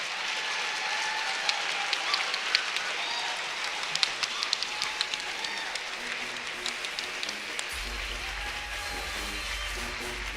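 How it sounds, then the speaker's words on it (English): A standing audience at an award ceremony gives a long, steady round of applause, with dense clapping that carries on evenly throughout, plus a low rumble near the end. "I want you all to give a thunderous round of applause."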